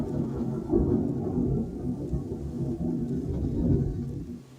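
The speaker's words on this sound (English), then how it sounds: "that's a storm starting to go outside" Low, muffled thunder rolls and rumbles through a game scene in Harmony: The Fall of Reverie as a storm begins outside, a soft, distant-sounding murmur without sharp cracks.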